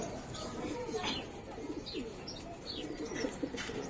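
Giribaz pigeons coo at a loft, faint and steady against a noisy background, with scattered chirps and light rustling throughout.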